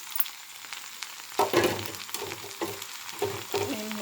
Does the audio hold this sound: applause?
no